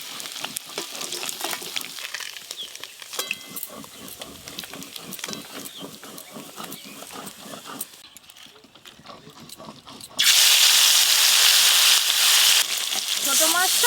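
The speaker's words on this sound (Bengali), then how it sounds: "ছোট মাছ একটু হালকা করে ভাজবি।" Mixed small fish frying lightly in a pan on a village clay stove, steady crackling sizzle with stirring scrapes and clicks, quieter briefly before a loud bright hiss swells up near the end.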